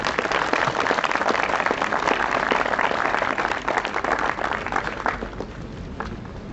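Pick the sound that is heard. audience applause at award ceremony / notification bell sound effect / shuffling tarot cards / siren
audience applause at award ceremony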